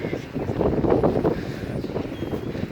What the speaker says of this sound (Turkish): şu anda çok yoğun bir rüzgar var